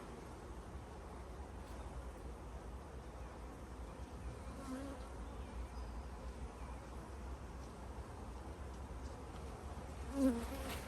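Honey bees in an open beehive keep up a steady, dense buzzing drone throughout, close by and moderately quiet, with one brief louder bee passing near the end.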